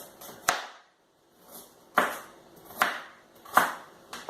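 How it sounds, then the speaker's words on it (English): A kitchen knife rocks through an onion on a chopping board, landing about five crisp, separate chops spaced under a second apart, close and fairly quiet. "So just rock the knife over, hand like a claw, rock the knife over."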